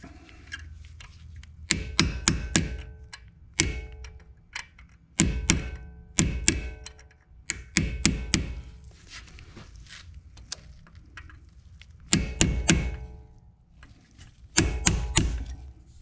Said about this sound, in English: grab your little punch and a hammer, try to get it out